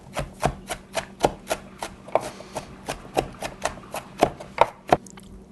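A knife slices green onions on a cutting board, with about twenty crisp, evenly spaced chops in a steady quick rhythm, heard up close and alone.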